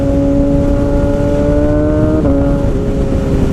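A 2019 Kawasaki Ninja ZX-6R fitted with a full M4 GP exhaust, heard loud and close while riding, holding a steady high-pitched engine drone with a small gear-change dip partway through.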